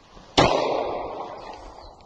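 Gunshot from a played video clip: one sharp loud bang near the start, with a noisy tail slowly fading over the next second and a half.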